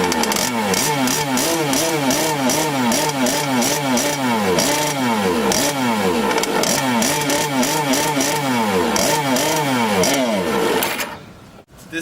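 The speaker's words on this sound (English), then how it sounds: "So first you need to start the board, and while the board is running you need to spray some WD-40 over the carburetor." A JetSurf board's small two-stroke engine runs up close, loud and buzzing, its pitch repeatedly swelling and falling with the throttle for several seconds before it abruptly cuts off.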